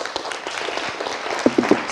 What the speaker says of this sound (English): So applause to our guests here